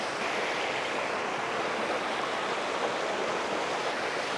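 Two streams meet and flow together at their confluence, a steady broadband rush of water heard from above, constant and fairly loud with no voices.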